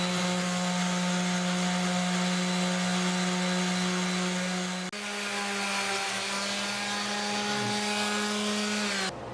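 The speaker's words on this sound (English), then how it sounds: "I sanded those flush." Power sander smoothing glued wooden plugs flush on a foot stool, a steady loud whining drone with a strong even hum that briefly dips midway and resumes, close and continuous without speech.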